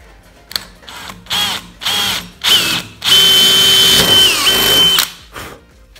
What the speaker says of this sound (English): So I drill my hole, and now I'm just gonna rock my drill bit from side to side to start elongating this.